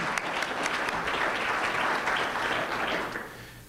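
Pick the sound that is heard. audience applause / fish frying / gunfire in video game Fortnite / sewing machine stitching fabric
audience applause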